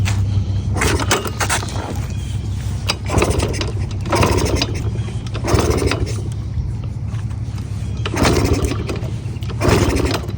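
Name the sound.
small engine being started after fuel left on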